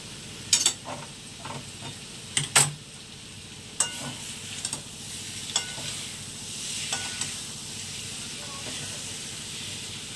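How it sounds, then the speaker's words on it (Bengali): Cabbage being reheated and stirred in a pan: sharp spatula scrapes and clicks, busiest early on, over a soft continuous sizzle and hiss. "এখন এই বাঁধাকপিটা গরম করছি"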